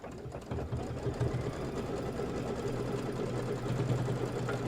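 An embroidery sewing machine stitches an outline with a steady, rapid mechanical chatter and whirring hum, close and continuous for the whole stretch with no talk.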